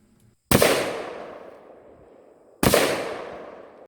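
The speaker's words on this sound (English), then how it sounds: "I very rarely practice shooting offhand from my rifle." Two loud rifle shots fired offhand at a shooting range, each a sharp crack followed by a long, fading echo, spaced about two seconds apart.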